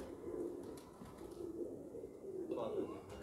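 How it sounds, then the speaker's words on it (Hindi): A Salara pigeon coos in low, soft rolling phrases at close range, repeating steadily over a quiet background with faint other noise. "नायाब परिंदा सलारा कबूतर देखो"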